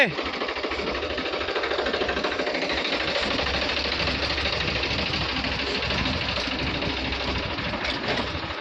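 A tractor engine runs steadily while reversing toward a trolley in a field, a loud, continuous rumbling drone with a rattling mechanical texture, with voices partly mixed in.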